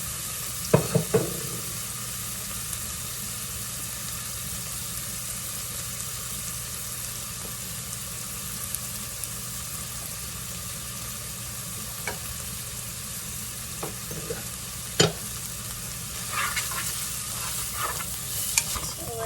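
Butter and beef fat sizzle steadily in a pan for a stroganoff roux, a dense, even hiss that runs throughout, with a few faint clinks of a utensil at the start and near the end.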